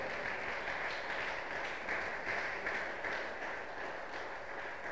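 Church congregation applauding during a Spanish-language worship service, a steady dense wash of clapping held at an even level throughout with no break.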